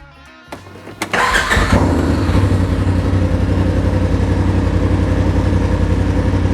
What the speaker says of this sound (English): we're going to go ahead and put the 2 1/4 in and see how it sounds